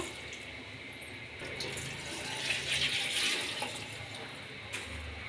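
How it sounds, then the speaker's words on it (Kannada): Water poured into a pot of raw jackfruit pulao with carrots and rock salt, a steady watery rush that swells in the middle and then tails off, with no talk over it. "ಇವಾಗ ನೀರು ಹಾಕ್ಕೊಳ್ಳೋಣ"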